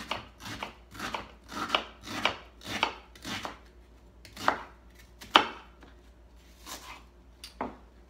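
A knife slices onions on a cutting board, close and crisp, with a quick run of rhythmic chops followed by scattered single cuts and brief pauses.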